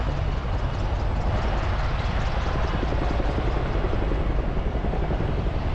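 A Chinook helicopter flies a display at the 2026 Farnborough Airshow, its rotors and engines making a loud, steady, close roar that holds without a break.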